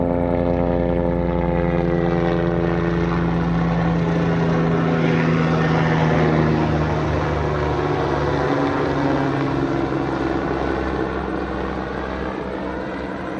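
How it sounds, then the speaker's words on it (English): A Westpac rescue helicopter passes overhead near coastal pines and dunes, a sustained droning rotor and engine hum that holds steady, then eases slightly as it moves away. "Westpac rescue chopper."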